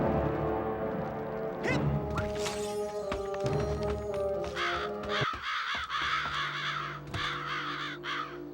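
Several crows caw in a harsh, repeated series from Psychonauts, loud over a steady game ambience with scattered clatter, and no talking.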